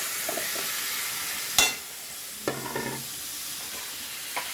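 Lemon pieces dropped into a hot pan and stirred, giving a steady soft sizzle with a few sharp clinks and scraping stirs at intervals.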